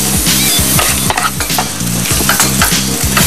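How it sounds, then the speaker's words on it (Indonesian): Zucchini breakfast hash stir-frying in olive oil crackles with a loud, close, dense sizzle, while quick rhythmic stirring strokes scrape through the pan throughout. "Begitu saya akan membantu untuk stir fry-nya, Chef."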